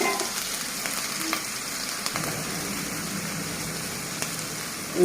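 Onion and garlic paste with salt fries in a pan as the base for a red tomato fish curry, giving a steady, fairly quiet sizzle with a few faint clicks and scrapes throughout.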